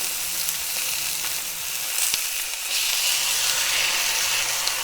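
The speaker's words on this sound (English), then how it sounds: "Let it sear it off." Steak searing in a hot pan gives a steady, loud sizzle and hiss, with a few sharp crackles and spits over the continuous frying noise and no talking.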